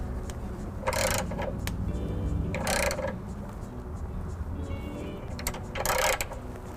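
Thread cleaning tool wound into a rusted weld nut, giving three short bursts of gritty scraping over a low mechanical hum, near and moderately quiet.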